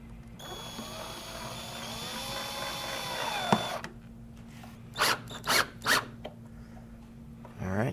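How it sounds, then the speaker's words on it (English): A power drill runs steadily for about three and a half seconds, whirring and slowing as it tightens the clamp screws on a Hayward multiport pool valve. A few short, sharp bursts of drilling follow after a pause. "we'll get our drill and just tighten those screws up"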